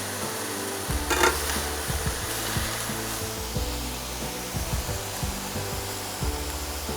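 Stir fry sizzling in a hot pan, a continuous hissing fry with a louder scraping burst early on and a low steady hum running underneath.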